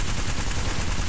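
Heavy gunfire in a strategy shooter game, a loud, unbroken wash of overlapping shots with no pause.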